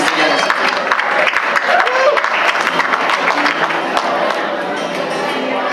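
At a Jewish family festival concert in Akron, a crowd breaks into applause, a busy stream of clapping with scattered cheers and voices layered in, holding fairly loud for about six seconds.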